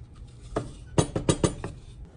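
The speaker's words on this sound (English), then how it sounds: "Give it a good stir" Spoon stirring raisin pie filling in a metal pot, a handful of sharp clinks and scrapes in quick irregular succession, close and fairly loud with no talking.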